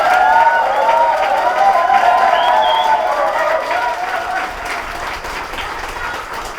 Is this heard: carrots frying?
no